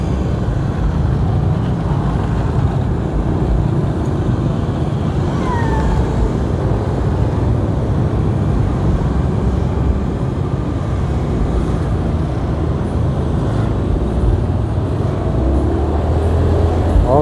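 A traffic jam on a road in Batam near a housing estate gate just before the evening fast-breaking, with a steady dense rumble of idling and crawling vehicles heard up close for a long stretch.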